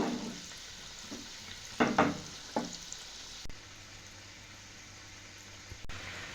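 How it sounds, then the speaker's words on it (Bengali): Rice-flour pitha dumplings fry in hot oil over a lowered flame, a faint, steady sizzle with a few soft clinks and stirring knocks near the start. "এবার সমস্ত পিঠেগুলো আমি তেলের মধ্যে ছেড়ে দিচ্ছি। তো চুলোর ফ্লেমটা লোয়ে করে দিয়ে আমি পিঠেটাকে ভালো করে ভেজে নেব।"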